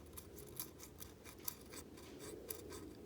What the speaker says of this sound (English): you want this feeler gauge to be basically touching and rubbing, have a little bit of friction on it